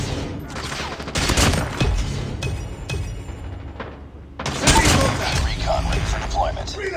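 Bursts of rapid gunfire and sniper shots during a Call of Duty match on the Scrapyard map, loud, with thumps and impacts, a brief lull, then more shooting and game sounds mixed with voices.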